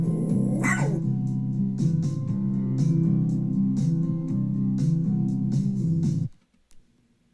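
A dog barks repeatedly in quick, loud, close bursts over a sustained tonal background, then everything cuts off abruptly near the end.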